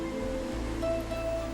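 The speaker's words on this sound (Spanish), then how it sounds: "Cualquier riachuelo, por diminuto que sea, se convierte en un río al recibir las aguas del deshielo" A snowmelt stream in Alberta flows steadily, a continuous broadband rush of water with a low rumble, constant and fairly loud, with no voices.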